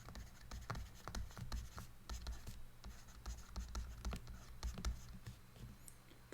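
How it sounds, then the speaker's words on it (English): A marker or chalk scratches across a board during a chemistry lecture on acids and bases, producing a quiet, continuous run of short scraping strokes and taps at close range. "this charged particle here, I'm just going to write this here"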